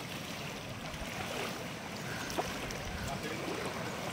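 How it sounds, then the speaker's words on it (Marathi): A flooded river pours across a road in a steady, broad rush of churning water that never lets up. "वाहतं पाणी आहे"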